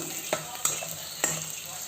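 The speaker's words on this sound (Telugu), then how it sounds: "కరివేపాకు వేసుకొని బాగా ఫ్రై చేసేసుకుందాం" Curry leaves and cumin sizzle in hot oil in a pan for an okra fry, a steady close crackle broken by a few sharp stirring scrapes.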